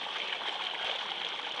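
Pressurised meltwater from the Marmolada glacier rushes in a steady, close, broadband hiss with slight gurgling, unbroken through the short stretch.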